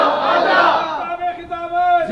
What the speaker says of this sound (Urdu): یہ سمجھ میں آئے تو آپ بولو، نعرے لگاؤ۔